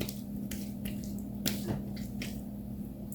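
Water splashes and drips during a post-shave rinse, with soft wet squishes and a few sharp splashy slaps at an irregular pace, close and quiet.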